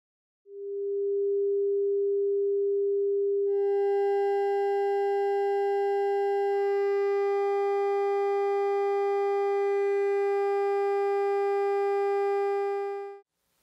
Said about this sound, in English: I'll listen to the result of adding harmonics together.